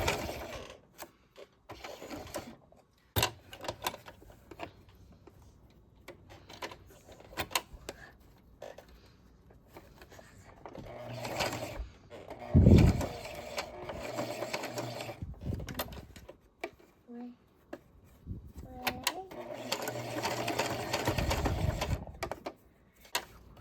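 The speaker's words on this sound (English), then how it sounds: "So then I'm just going to keep sewing, pivoting." Sewing machine stitching fabric for a rope ghost, short intermittent bursts of stitching with pauses and clicks as the fabric is pivoted and straightened.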